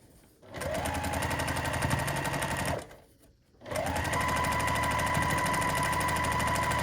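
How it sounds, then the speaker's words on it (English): Sewing machine stitching a pocket onto the front of a zipper pouch, running in two steady bursts with a short pause between, close and alone. "And so we're going to sew on the side, across the bottom,"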